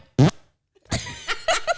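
A person imitates fart noises with their lips, a short sharp buzzy burst followed after a pause by a longer sputtering series of wet blurts, close and loud.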